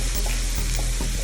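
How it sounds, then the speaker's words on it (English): Lemongrass frying in a pan for turkey larb, a steady close sizzle with soft crackles and faint stirring, no voices. "Cook the lemongrass for a little bit."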